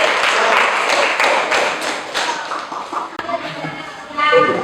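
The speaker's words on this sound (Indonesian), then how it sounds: "Tepuk tangan untuk kelompok." A small group in a classroom claps for a presenting group, starting with a handful of sharp, uneven claps that thin out over a few seconds. Voices and room noise follow.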